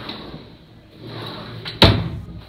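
Large built-in closet drawer in a rental apartment sliding shut, a soft rolling rumble ending in one sharp wooden knock close by.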